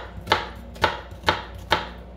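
Onions chopped for a stew: four crisp knife strikes on a cutting board, spaced about half a second apart, close and clear with no talking.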